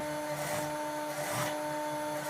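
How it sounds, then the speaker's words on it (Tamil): A sewing machine stitches the lining of a saree blouse with a soft, steady motor hum and faint rhythmic pulses of the needle, quiet and close without any talk. "லைனிங் பக்கத்தில் தையல் போட போகிறேன்."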